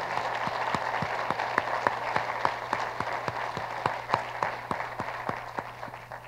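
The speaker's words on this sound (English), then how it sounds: "So please, Dr. Foltz, would you please stand and join me in giving him another round of applause." University audience applauding during a State of the University address, steady crowd clapping with a few sharp, regular claps standing out close by, sustained at moderate volume.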